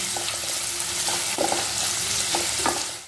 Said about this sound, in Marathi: आता यात आपण एक बारीक चिरलेला कांदा टाकूया. कांदा मस्त गुलाबी रंगावर परतून घ्यायचा.